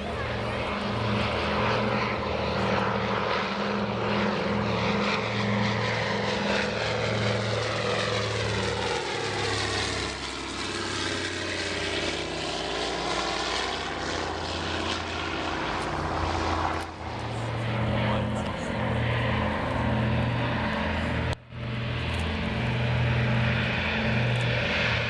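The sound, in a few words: Catalina flying boat propeller engines at Omaka air show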